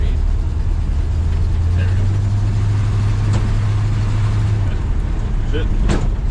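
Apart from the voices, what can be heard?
old Chevrolet Squarebody K10 truck taking off in snow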